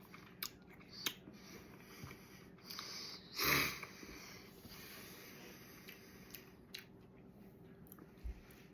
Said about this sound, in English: The initial chew, it is a little more rubbery than you would expect from a steak.